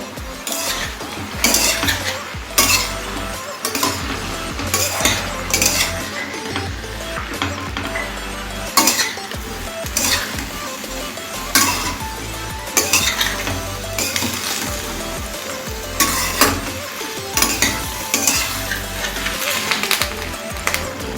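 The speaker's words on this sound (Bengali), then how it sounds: "লাউটাকে অল্প কিছু সময় আমি একটুখানি নাড়াচাড়া করে নেব" Bottle gourd being stirred in a pan over medium flame, with busy, loud clattering of a utensil against metal in an irregular rhythm over a soft sizzle, continuing throughout.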